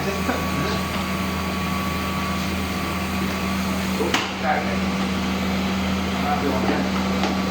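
Swing 455 terrace cleaning machine running with its vacuum, a steady droning motor hum with a constant low tone throughout and a brief knock partway through.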